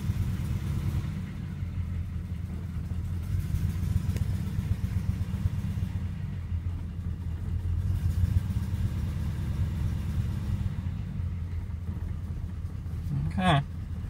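A car cold-starts and idles, its engine settling into a steady low rumble that carries on throughout, with a brief higher whine near the end; a voice talks over it.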